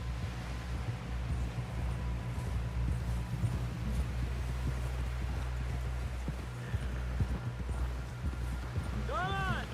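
Horse hooves galloping in Red Dead Redemption 2, a steady rapid clip-clop running under a continuous low rumble of game music and ambience, with a brief whinny-like tone near the end.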